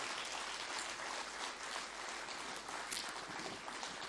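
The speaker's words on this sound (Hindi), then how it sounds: "आप एक बार अपनी तालियों से हमें बताएंगे तो सबको अच्छा लगेगा" Faint, distant clapping from an audience at a Hindi hasya kavi sammelan poetry gathering, a steady wash of many hands with no speech over it.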